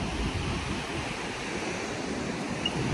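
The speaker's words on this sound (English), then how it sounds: "There's the ocean. The morning waves" Morning ocean waves at Olas Altas in Mazatlán, heard as a steady, continuous wash of surf with breezy wind noise, fairly close and unbroken, with no voices.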